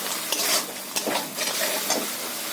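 Masala spice paste made with onion is stirred and fried in a pan, giving a soft continuous sizzle broken by scraping and stirring strokes, close and fairly quiet.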